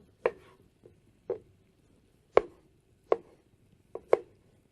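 A knife chops tomatoes into cubes on a cutting board in a handful of crisp, uneven taps, close and fairly quiet, with no talking.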